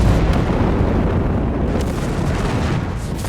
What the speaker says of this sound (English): massive rocket barrage